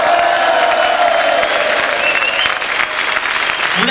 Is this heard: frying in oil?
no